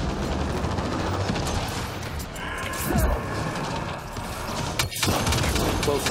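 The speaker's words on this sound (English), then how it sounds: "A lot of rounds being fired right now." Dense, sustained gunfire from Mass Effect Andromeda multiplayer fills the whole stretch as a constant rattling wash with heavier bursts mixed in, while players talk over the combat.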